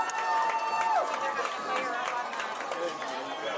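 Crowd murmur fills the stands at a high school football homecoming game between CVU and BFA at Collins Perley, a steady broad hum running beneath a man's close, continuous talk.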